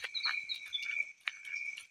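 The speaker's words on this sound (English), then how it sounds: "I hope you are enjoying the sound of birds." Outdoor chirping with a steady high trill and scattered short calls, a bird or insect chorus at moderate distance with no talking.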